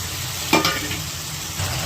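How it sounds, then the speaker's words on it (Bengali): Fried eggplant pieces are tipped into a sizzling pan for Bengali sukto and stirred, making a brief scraping clatter over a constant frying sizzle. "এবার বেগুন ভাজাগুলো দিয়ে দিলাম।"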